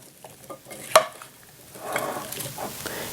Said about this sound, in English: I'm going to stir these around real good and coat the potatoes real well.